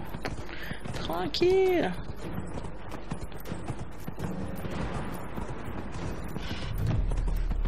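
A horse ridden in Dragon Age Inquisition clip-clops in steady hoofbeats through the whole stretch amid game ambience and a short whistling tone, while someone speaks briefly over it.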